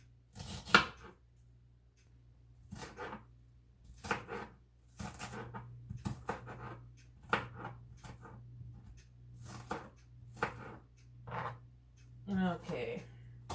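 A knife chops a small onion on a board in slow, evenly spaced strokes, each a sharp close thud, with a steady low hum underneath and a voice talking quietly at times.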